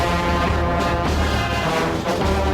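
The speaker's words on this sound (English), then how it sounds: "This is the sound of Uckfield concert brass now." A full brass band plays sustained, rich harmonies at a bonfire night celebration, loud and continuous with no pauses.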